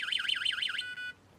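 A bike alarm sounds at close range, loud and shrill: about seven rapid warbling siren sweeps, then a brief steady electronic tone that cuts off abruptly.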